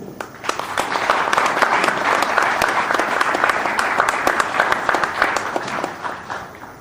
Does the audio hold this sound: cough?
no